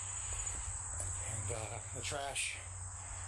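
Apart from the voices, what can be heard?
crickets chirping outdoors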